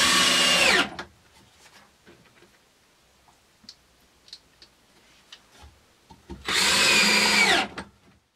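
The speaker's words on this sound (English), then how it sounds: "what's happening is as I'm drilling this into the wood, this cap actually pulls out of the way." A magnet driver sinks a screw into wood: two loud bursts of a whirring power drill at the start and end, with small clicks and taps in the quiet between.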